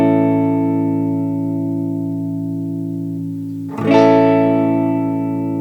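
Sustained electric guitar chords on the neck pickup, fitted with a Faber bridge and studs, ring out with long decay, then a sharp new strum near the end bends upward in pitch before settling, with effects-laden tone.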